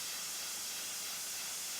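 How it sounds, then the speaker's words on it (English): Steady, loud hiss of steam cleaning on an Etap 26 cruising yacht's damaged gelcoat hull, a low-pressure blast of air, sand and heated water that holds constant and unbroken throughout. "Tim has organised the hull to be steam cleaned"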